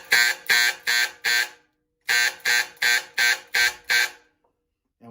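Underground mine hoist signal to the hoist operator, a loud buzzing alarm sounded in rapid pulses: four short blasts, a pause, then six more, close and with no talk.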